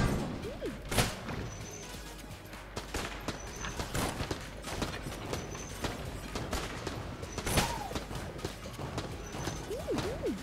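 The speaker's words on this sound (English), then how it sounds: "They explode, as in they cause an explosion." Repeated bursts and blasts from exploding enemies in the top-down shooter game Enter the Gungeon, sharp impacts scattered through busy gunfire and game effects, no talking.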